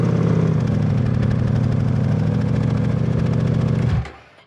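A 2023 Ducati Diavel V4 motorcycle, already warmed up, idles with a steady, loud, close rumble for about four seconds before the engine cuts off and the sound quickly dies away.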